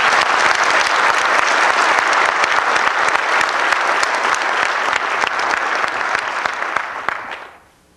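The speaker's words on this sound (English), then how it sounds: "I'd like to have you give her a big round of applause." Audience applause at a graduation ceremony, dense steady clapping from a large crowd that holds loud for about seven seconds and then fades out quickly.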